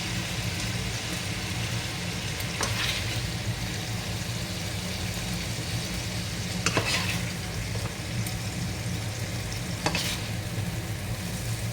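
Chicken fries steadily in a pan, a continuous soft sizzle with occasional sharp stirring scrapes, moderately quiet and close, no talking.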